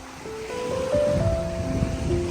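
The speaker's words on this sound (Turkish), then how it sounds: "Çok rüzgarlı bir hava var." Steady low rumble of wind buffeting the microphone at a campsite, continuous and fairly loud, with a few faint tonal hums drifting over it.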